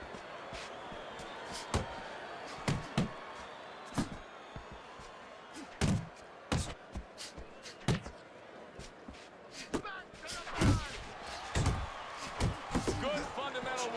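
Punches landing in the boxing video game Fight Night Champion: a string of sharp, thudding impacts scattered at irregular intervals, some in quick pairs, over a low arena murmur, with commentary heard at times.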